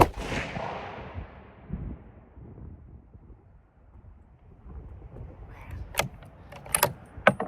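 A Bergara rifle fires one Federal PowerShok 180 grain round outdoors. The single loud, close report opens the sound and rolls off in a long fading echo, followed later by faint handling clicks and wind.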